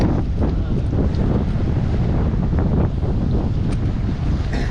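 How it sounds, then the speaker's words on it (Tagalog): Steady, loud wind buffeting the microphone, a constant rumbling roar that fills the whole clip with no pauses. "Mahangin. Hangin po."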